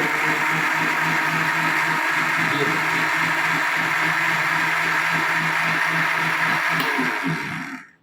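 A blender crushes ice for a mint margarita with a loud, steady, continuous whir that winds down and cuts off at the end.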